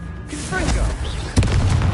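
Explosive blast of the Confringo spell in Hogwarts Legacy, a sudden loud boom landing mid-clip after a short whoosh, with game ambience and spell effects around it.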